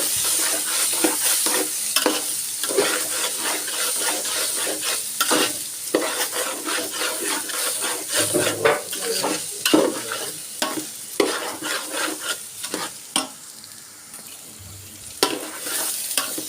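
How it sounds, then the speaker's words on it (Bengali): Rice for chicken biryani fries in a pan with a steady, close sizzle, punctuated by frequent scraping strokes of a stirring spoon throughout, with no voices. "চালটা আমি খুব সুন্দর করে ভেজে নিব"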